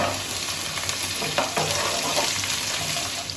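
Capsicum and shelled peas stir-fried in a pan for Bengali-style fried rice: a steady, close oil sizzle with a few soft spatula scrapes and knocks, no voices.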